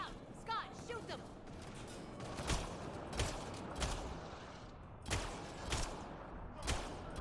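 Gunfire from the sci-fi video game Mass Effect Andromeda: sharp, loud shots crack at irregular intervals, some in quick pairs, over a busy combat background with game voices.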